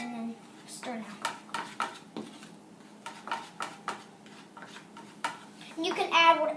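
Pancake batter stirred in a bowl, a string of rhythmic clinks and scrapes of a utensil against the bowl, close and fairly quiet, with a voice speaking faintly at points.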